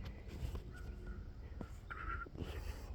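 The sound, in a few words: crow cawing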